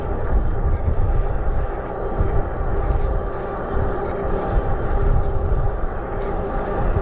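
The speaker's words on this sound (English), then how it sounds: "No jets, just propeller planes." A propeller aircraft drones steadily overhead, a broad low rumble holding at a constant, fairly loud level throughout.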